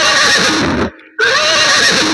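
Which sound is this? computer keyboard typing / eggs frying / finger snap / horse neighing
horse neighing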